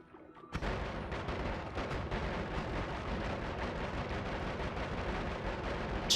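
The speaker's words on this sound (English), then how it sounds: "as much as I love the explosions" Dense, continuous crackling blasts and rumbling explosions fill the Noita video game scene, starting abruptly and sustaining a steady, fairly faint roar throughout.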